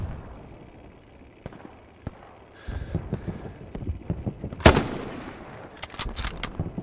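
Satchel charge explosion in the video game Hell Let Loose: one loud, sharp blast bursts out partway through, set against scattered distant gunfire and battlefield rumble.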